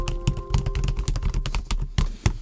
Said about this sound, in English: Now this is my real typing speed.